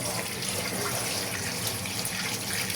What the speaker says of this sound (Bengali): তার আগে আলুগুলো ধুয়ে নিতে হবে।